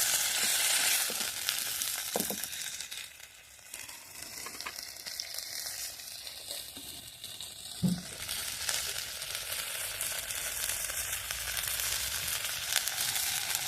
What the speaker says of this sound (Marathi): थोडं मीठ टाकून घेते आता ही भाजी थोडी परतून घ्यायची